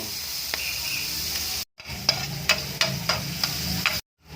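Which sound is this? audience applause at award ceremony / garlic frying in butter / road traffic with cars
garlic frying in butter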